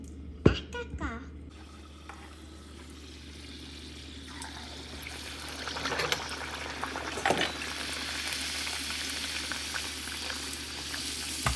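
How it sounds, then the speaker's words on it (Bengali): Puris puff in very hot oil with a continuous, dense sizzle and crackle that builds over the clip, after a few sharp clatters at the start; close and steady. "তেল বেশি গরম হয়ে গেছে ওয়াও কি সুন্দর ফুলছে"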